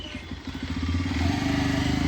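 A motorcycle engine runs close by with a steady, rhythmic low putter that holds at an even level throughout.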